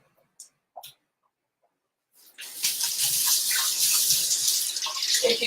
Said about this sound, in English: I'm going to wash this off before I cut my green onions because it's all gunky now.